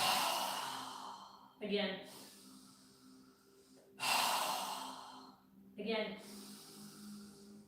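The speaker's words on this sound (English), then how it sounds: "Now we're going to take 3 deep breaths, inhaling through our nose and exhaling with a strong breath and our mouth open wide." Deep breaths during a live yoga session, each ending in a strong, open-mouthed exhale: three loud, breathy rushes of air spaced a couple of seconds apart, with a brief spoken cue between them.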